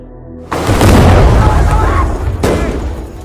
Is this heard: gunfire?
yes